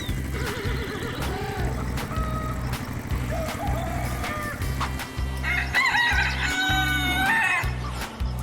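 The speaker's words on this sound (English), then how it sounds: "Rooster." Rooster crowing on a farm, a couple of drawn-out crows heard clearly over a steady background of other animal noises.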